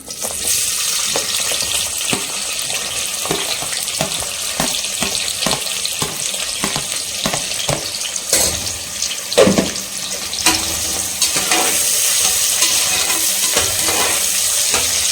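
Chopped onions fry in a pot for chicken biryani, a steady close sizzle punctuated by a series of sharp stirring clacks and scrapes.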